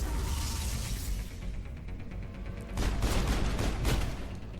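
Pistol fire in the sci-fi shooter Mass Effect: a quick series of sharp shots within a dense, noisy battle soundscape, with a cluster of cracking reports toward the end.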